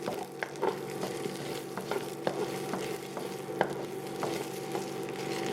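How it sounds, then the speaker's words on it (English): Lomo saltado being stirred in a frying pan, with a soft continuous sizzle and repeated light scraping strokes of a utensil against the pan, close and fairly quiet, no talking. "So that's why I just stir it instead of doing the flip thing that I've been wanting to try."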